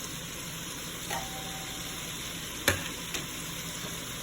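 Shrimp, potato and squash hiss and sizzle in a hot pan, a steady frying crackle broken by a few sharp scrapes and clinks of stirring. No voices.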